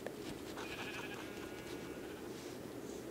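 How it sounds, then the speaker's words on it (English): A Minecraft sheep bleats in a short wavering cry over a faint, steady game background, fairly quiet and with no talking. "Sheep."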